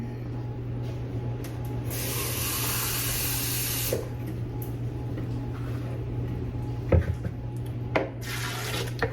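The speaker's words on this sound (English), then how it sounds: "then I'm going to just pour it in here and then add 2 cups of water" Water runs from a tap and pours into a bowl while coconut milk is being made, a steady splashing stream with a brief louder burst, small clinks and a low background hum.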